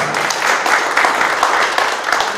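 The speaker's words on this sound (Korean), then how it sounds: "여러분 자신에게 박수 부탁드리겠습니다." Applause from members gathered at the opening ceremony of a 2022 traditional Korean wood-carving masters' exhibition in Anseong: dense, loud crowd clapping, continuous and even across the whole stretch.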